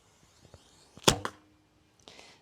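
An arrow from a 39 lb SiKiti bow strikes a target at about 7 meters with a sharp, close thwack and a short rattling vibration, followed by quieter scuffing sounds.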